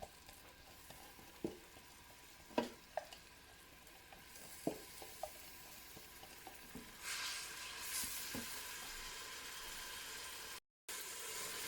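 Onions, garlic, parsley and coriander sizzle in olive oil inside a Cookeo multicooker, a soft steady frying hiss broken by scattered stirring knocks and taps, fairly faint and close, with no talk.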